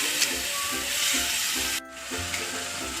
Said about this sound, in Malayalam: വെന്ത ചെമ്മീനിടുന്നു ചാറ് വറ്റട്ടോ